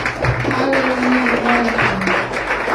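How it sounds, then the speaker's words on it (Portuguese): Church congregation clapping together during a worship service, a steady rhythmic patter of many hands alongside a sustained musical tone, fairly loud and continuous throughout. "Vamos aplaudir ao Senhor."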